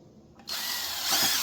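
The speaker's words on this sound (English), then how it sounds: "I'll pre-drill a couple holes." A power drill pre-drills holes in wood for an outdoor swing, starting abruptly after a quiet moment and whining steadily and loudly close by, with the pitch rising slightly toward the end.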